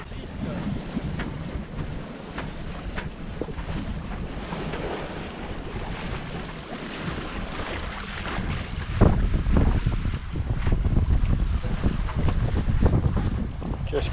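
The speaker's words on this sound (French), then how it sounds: "on fait de la voile, ça agite" Sailboat under sail crossing from Corsica to the mainland in choppy water, with steady wind rushing over the microphone, waves slapping and hull noise, loud and continuous, growing stronger near the end.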